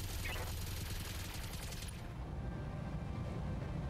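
Sustained weapon fire in the BattleTech Advanced 3062 video game: a dense, loud barrage of overlapping bursts and blasts with no pause.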